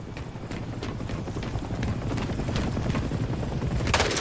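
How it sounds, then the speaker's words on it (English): Enemy helicopter in the video game Hell Let Loose Vietnam, a steady rapid rotor chop with a rumbling low drone, fairly loud and continuous throughout, with a sharp burst near the end. "Enemy helicopter coming to defense."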